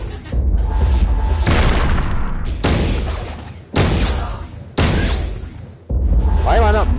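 Heavy booming gunshots from a weapon in the VR shooter Sairento, played on PSVR with a PS4 Pro, fire in a rhythm of about six loud blasts, each followed by whooshing and ringing game effects.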